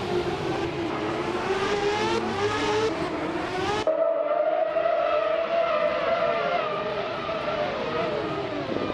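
A 2009 McLaren MP4-24 Formula One car in a racing video game, its high-pitched engine wailing loud and close, revving hard before an abrupt shift to a smoother, rising whine as it pulls away.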